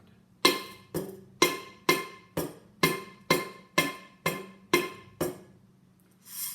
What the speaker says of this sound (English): I'm going to hit the top, and that's my drum sound.